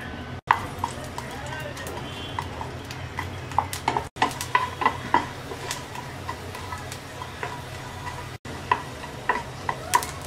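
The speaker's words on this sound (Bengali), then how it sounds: "তেলটা গরম হয়ে গেছে, দিয়ে দিচ্ছি 4টা শুকনা মরিচ, 2 কোয়া রসুন। এটা আমরা হালকা একটু ভেজে নেব।" Four dried red chillies and two garlic cloves fry in a tablespoon of hot oil, giving a soft, steady sizzle with small crackles and occasional utensil clicks throughout.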